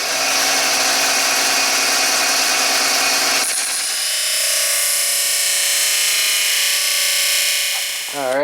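A power drill bores holes through galley hatch trim on a teardrop trailer, giving a loud, close, steady whine that drops into a lower, smoother tone partway through and keeps running to the end.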